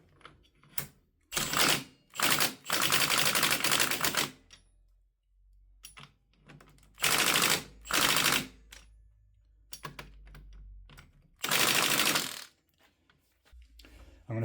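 An impact gun tightening the clutch nut on a 1997 Suzuki GSX-R 750 SRAD fitted with a Sigma slipper clutch: several loud, close bursts of rapid hammering, each lasting a second or two, separated by quiet pauses.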